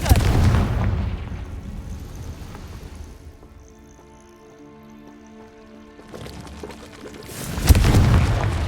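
Confringo blasting curse from Hogwarts Legacy, a loud fiery boom at the start that fades into a quiet tonal hum, then a second heavy blast near the end.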